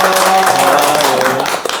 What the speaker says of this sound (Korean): 박수가 한 2초 딜레이 있네요.